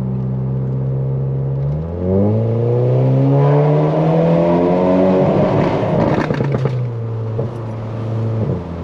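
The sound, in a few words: car accelerating hard with kickdown, automatic gearbox, into tunnel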